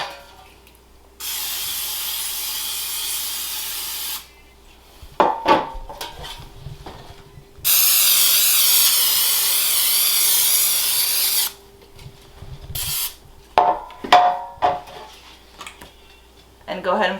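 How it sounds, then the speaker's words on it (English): Two long bursts of Pam cooking spray hissing onto baking pans, each lasting a few seconds, separated by light clattering of the metal pans being handled. "I'm going to spray them down with some Pam."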